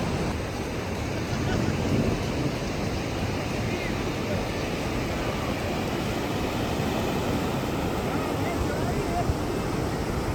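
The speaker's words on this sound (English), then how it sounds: "It's raining, but it's okay." Steady broadband hiss of rain falling outdoors at Barra da Lagoa beach in Florianópolis, Brazil, continuous and even throughout, with a faint low rumble of wind beneath.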